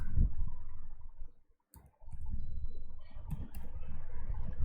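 Computer mouse clicks sound close and crisp in a quiet room, a few sparse taps spread across a brief pause.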